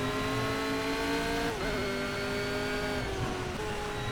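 Race car in Project CARS with its engine holding a steady high drone, the pitch dipping as it shifts or lifts around 1.5 and 3 seconds, with tire noise underneath; a continuous in-game car sound with no talking.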